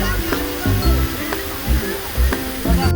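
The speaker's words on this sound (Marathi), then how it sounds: "पाणी बघा काय वाहत." Water rushes in a stream at Malangad, a constant broad roar beneath people talking nearby, with occasional louder surges.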